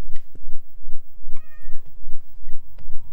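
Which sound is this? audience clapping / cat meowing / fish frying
cat meowing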